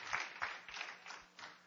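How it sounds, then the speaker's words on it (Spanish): A church congregation applauding, a faint scattered round of clapping with a few distinct hand claps, brief and somewhat distant. "Démosle un fuerte aplauso al que es digno, ¿verdad?"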